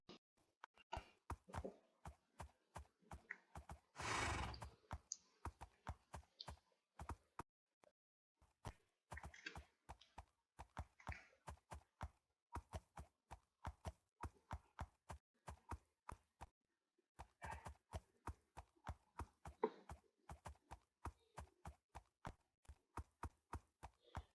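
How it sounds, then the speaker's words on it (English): Hooves of a horse in a video game equestrian mod clip-clop in a steady, even walking rhythm, broken by a couple of short pauses, fairly quiet and with no talk. "It was really good to be back on Juniper and be able to actually ride him freely"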